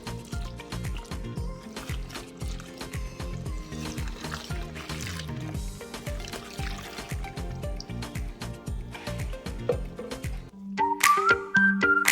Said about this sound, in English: And then add the rest of the water.